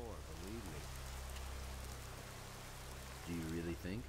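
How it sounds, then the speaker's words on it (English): Soft continuous rain hiss in the video game Gothic 2, a faint steady wash under a voice talking at the start and end. "I really wish that when it's raining, the guys would actually go away from the rain"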